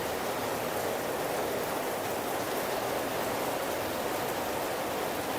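Steady, dense rain pours beside a house sit-out, a constant even hiss of drops with no gaps, loud and close.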